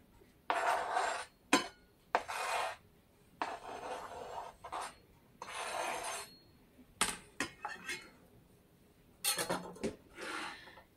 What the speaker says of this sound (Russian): Сейчас мы добавляем в лук нарезанные яйца.